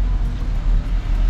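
Riding inside a Traveller bus on a morning trip from Srinagar toward Katra brings a loud, steady low engine and road rumble with a continuous drone and no voices.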